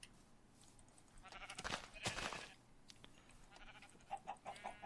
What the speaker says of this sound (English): there's a lot of chickens and sheep